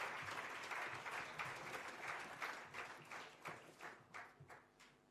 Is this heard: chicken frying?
no